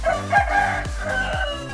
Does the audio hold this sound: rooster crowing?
yes